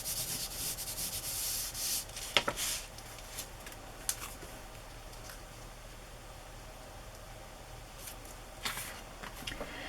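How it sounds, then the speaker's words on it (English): Ink is rubbed over embossed paper for a journal, making a quiet, close, scratchy rubbing with a few soft taps and scrapes. "I'm just gonna rub some ink over the embossed part, make it stand out more."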